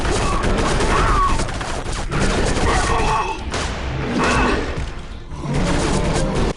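Dense covering gunfire in the Area 51 video game, a loud sustained fusillade of rapid shots with thuds and crashes, voices shouting over the barrage.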